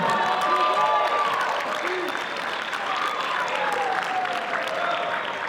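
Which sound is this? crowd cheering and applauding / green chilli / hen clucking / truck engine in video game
crowd cheering and applauding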